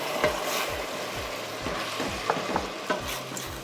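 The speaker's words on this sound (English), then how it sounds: "the first bit of liquid that we're going to add is actually a little bit of white wine" White wine poured over toasted risotto rice in a hot pan, a continuous sizzle with rhythmic wooden spoon scrapes stirring and loosening the bottom of the pan, close and moderately loud.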